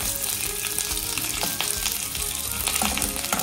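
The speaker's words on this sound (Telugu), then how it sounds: "సో నెక్స్ట్ కరివేపాకు వేసేసాము." Curry leaves and peanuts sizzling steadily in hot oil, a dense, loud crackling hiss with occasional pops and stirring scrapes, close up and continuous.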